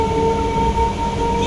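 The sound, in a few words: inside a moving commuter train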